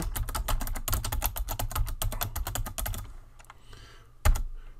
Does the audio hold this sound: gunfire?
no